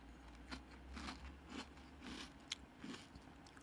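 Wheat-free Magic Spoon cereal crunched and chewed up close during a mukbang meal, with a steady series of crisp crunching bites about every half second and no talking.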